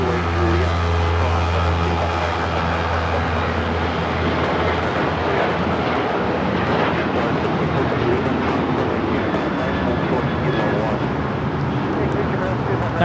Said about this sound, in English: That is Alaska Airlines Flight 6 taking off to Washington Reagan National on the 737-800 in the Huatkawani livery